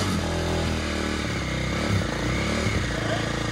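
An ATV engine runs with a steady, dense buzzing rumble and a rough rattling texture, close and loud throughout with no pause, after being started.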